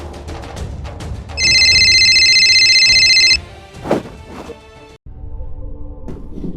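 A loud electronic phone ring, steady and high-pitched, sounds once for about two seconds, followed by a thump and quiet background noise.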